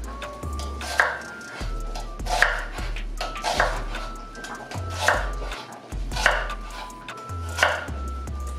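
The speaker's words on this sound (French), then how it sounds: "L'oignon, on va le couper en petits morceaux." An onion is chopped into small pieces with a knife on a board, making a run of about a dozen sharp, close, irregularly spaced chops with no talking.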